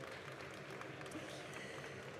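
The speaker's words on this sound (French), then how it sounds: "Est-ce qu'on peut applaudir nos invités encore une fois" A live audience at a Japan Expo 2024 cosplay panel gives the guests steady, dense applause that fills the hall without a break, with faint voices mixed into the crowd.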